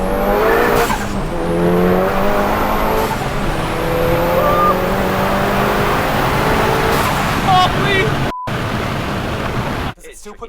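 A manual Audi S1 hot hatch with a 700hp big turbo build accelerates hard, heard from inside as a loud, continuous engine roar rising through the gears, with a brief cut near the end.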